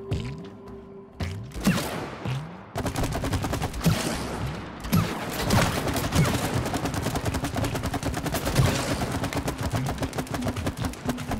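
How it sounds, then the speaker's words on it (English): Rapid, repeated gunfire from shooting at a target in the video game It Takes Two, a steady stream of sharp shots continuing for several seconds with thumping impacts and no talk. "shoot the target"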